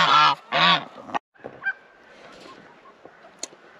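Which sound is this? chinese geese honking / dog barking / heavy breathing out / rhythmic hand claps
chinese geese honking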